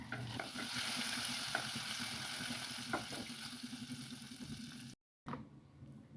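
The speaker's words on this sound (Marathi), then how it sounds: "दोन चम्मच तेलमध्ये आलं लसूण पेस्ट परतून घेतली." Ginger garlic paste fries in two spoons of oil while pulao is being made, a steady close sizzle with frequent stirring scrapes, broken by a brief silent gap near the end before the frying resumes.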